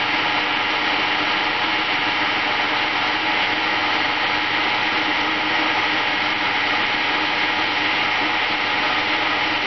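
A wood lathe spins steadily while an Australian banksia seed pod is turned and polished toward a mirror finish, giving a continuous, loud, even whirring hum with no pauses and no talk.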